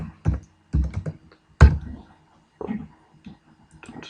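Short bursts of keystrokes on a computer keyboard entering a lowercase password, separated by brief pauses, close and fairly crisp with no talking.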